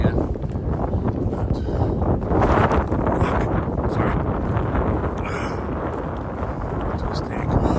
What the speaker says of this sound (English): I don't know if you can hear the wind or not.